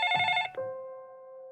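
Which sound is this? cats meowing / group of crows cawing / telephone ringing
telephone ringing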